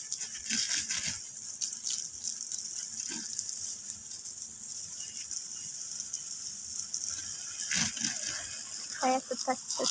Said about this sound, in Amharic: ከዛ ይሄን ውሃ እናጠጣለን እላችኋለሁ።